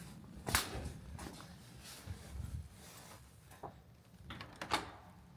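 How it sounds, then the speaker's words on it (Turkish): Someone tries to open a door in the old town of Gruyères, giving faint scattered knocks and rattling thuds in a quiet space, with no speech. "Bir kapıyı açmayı denesene"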